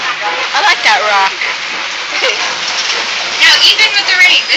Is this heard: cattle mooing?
no